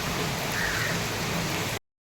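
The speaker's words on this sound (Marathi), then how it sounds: "कसला पाऊस आहे भयानक" Dense, loud rainfall pours steadily for a couple of seconds before cutting off abruptly into silence.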